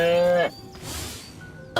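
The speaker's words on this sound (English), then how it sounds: "Again with the moo?" A cow in the Destroy All Humans video game lets out one loud, close moo lasting about half a second, followed by quieter game ambience and a short tonal blip at the end.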